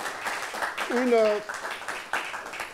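A studio audience gives scattered applause for an artist's performance, clapping running beneath a speaking voice that dominates the moment.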